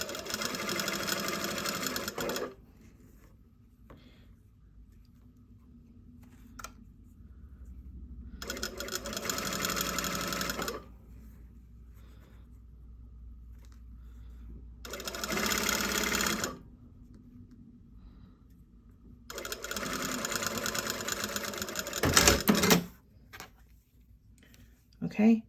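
A sewing machine stitches a bias bound seam in four loud, close bursts of rapid mechanical whirring, separated by quiet pauses, with a few clicks and handling noises near the end.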